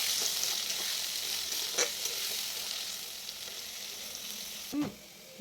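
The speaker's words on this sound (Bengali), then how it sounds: "সর্ষে, পেঁয়াজ, কাঁচা লঙ্কা, টমেটো, এই সব পেস্টটা আমি এর মধ্যে দিয়ে দিলাম" A paste of mustard, onion, green chili and tomato sizzles steadily in hot oil in a pan, a constant bright crackling hiss with a few louder stirring scrapes, close and without talk.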